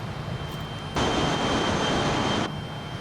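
A steady roar from a Boeing 707-320B's jet engines fills a flight simulator climb after takeoff. The sound holds loud and broadband, then swells brighter for about a second and a half before settling back.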